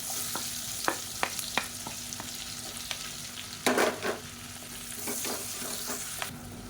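Sliced onion frying in a kadai with clove and other spices for egg biryani, a quiet steady sizzle broken by sharp scraping and clinking stirs of a ladle against the pan, with no talking.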